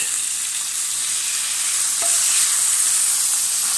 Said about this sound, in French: je vais mettre mon steak haché par-dessus